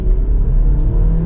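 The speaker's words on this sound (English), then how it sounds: "So let's give it another acceleration here." A 2024 BMW X2 xDrive28i with its turbocharged engine accelerates, giving a steady, loud engine rumble and drone from inside the cabin with no pause.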